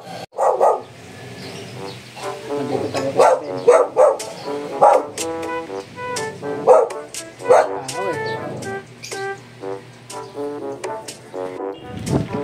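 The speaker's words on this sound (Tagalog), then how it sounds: "Aso." A dog barks repeatedly in loud, irregular bursts close by, with someone speaking briefly between the barks.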